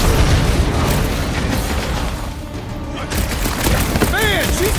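A bomb explodes in Guardians of the Galaxy, with loud booming blasts and bursting debris that fill most of the stretch, then a short lull and a voice near the end.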